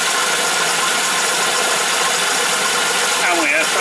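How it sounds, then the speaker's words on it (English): A workshop air compressor runs steadily throughout, a loud, continuous broadband mechanical roar with a faint rattling edge and no pauses. "Apologies for the noise of my compressor."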